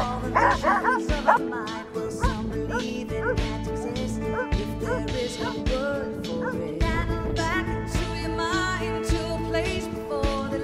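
Sled dogs on a ride across frozen Mirror Lake in Lake Placid, New York, bark, yip and whine excitedly in a loud, overlapping chorus close by, with a voice heard among them.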